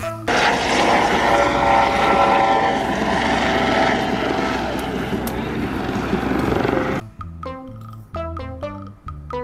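A helicopter flying, with a loud steady rotor and engine roar for about seven seconds, then cut off abruptly and followed by short tonal music-like bursts.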